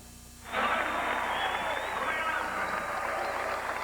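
Basketball arena crowd at the Capital Centre before a Knicks–Bullets game, erupting into sustained cheering and applause that swells abruptly after a quiet start and holds loud and steady throughout.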